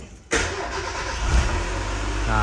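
A Mazda B8 180 engine fitted with a boost meter cranks and catches abruptly, then settles into a steady, quiet idle hum with a slight rise in revs, close by.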